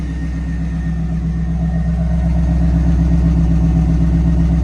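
A 1998 Pontiac Trans Am engine with fresh spark plugs runs smoothly at a steady idle, close and loud, with an even low rumble and no exhaust pops or gurgles.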